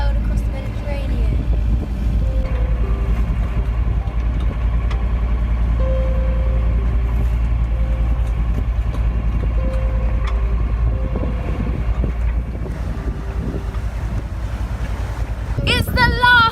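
A sailboat under way on the Mediterranean off Spain, with a heavy, steady roar of wind and water rushing past the hull throughout and a brief clatter near the end.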